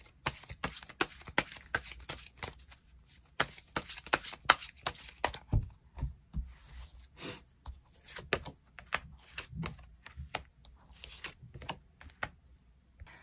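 Tarot cards shuffled and drawn, a steady run of dense papery riffles and soft slaps close by, with brief pauses and no talk.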